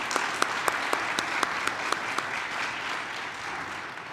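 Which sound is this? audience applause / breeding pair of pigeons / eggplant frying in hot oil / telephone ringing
audience applause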